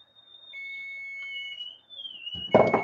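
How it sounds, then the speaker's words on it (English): A kitchen timer sounding in a home kitchen during meal prep, a long steady high electronic tone that shifts pitch slightly, then a clatter of handling noise at the end. "There's the timer."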